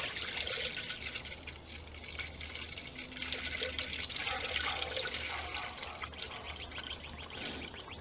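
Coolant from a gallon jug pours into the cooling system of a Dodge Avenger 2.4L Dual VVT, a steady gurgling, splashing flow that runs for several seconds close up, with no talking.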